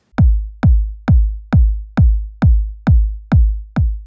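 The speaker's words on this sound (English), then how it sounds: "The kick I use in this video sounds like this." Nine evenly spaced modular-synth kick drum hits, each a punchy click followed by a deep booming tail, repeat at a steady tempo, loud and dry with silence between.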